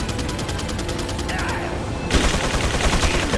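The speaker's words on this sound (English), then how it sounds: "Wait for them to stop shooting." Enemies fire in Resident Evil 4, a rapid, evenly spaced burst of gunshots that breaks into a louder, denser volley near the end.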